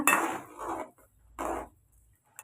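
Metal scraping and clinking of a spoon against a cooking pot of boiling kurma, in a few short bursts of stirring with quiet gaps between.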